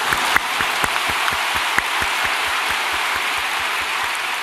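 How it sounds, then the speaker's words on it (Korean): Congregation applause fills a church during a sermon, a dense steady wash of many hands clapping with a few sharper individual claps standing out, loud and continuous without talk. "박수를 치니 좋은데 나도 한번 치겠습니다."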